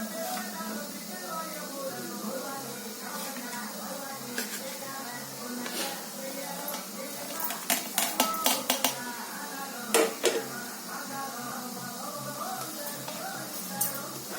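Ingredients for coconut chutney going into a mixer jar, several light clinks and clatters of a spoon and utensils against the jar, mostly in a quick cluster midway, with faint room noise.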